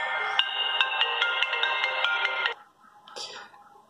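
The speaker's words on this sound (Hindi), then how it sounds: "ओके एक मिनट फ़ोन को काटता हूँ" An LG Q6 mobile phone plays an incoming-call ringtone, a bright repeating electronic melody in a steady rhythm of short notes, close and loud, cut off after about two and a half seconds, followed by a faint voice.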